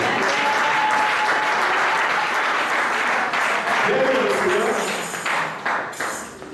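A church crusade crowd in Bruges breaks into loud, sustained clapping and shouting, a dense wash of applause that carries on for several seconds before thinning out and fading toward the end.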